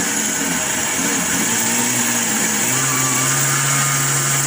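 A blender grinds dried garden celery into powder with a loud, steady motor whine that climbs in pitch as the speed rises, running alone with no talk.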